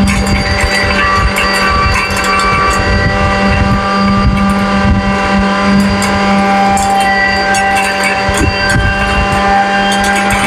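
A mini flour mill grinder runs for home flour grinding, a loud steady whirring drone with a constant mechanical hum and rattly texture throughout, close up and uninterrupted, no voices.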